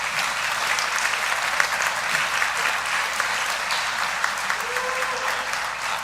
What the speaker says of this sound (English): Are you going to clap for Dale and Derek too?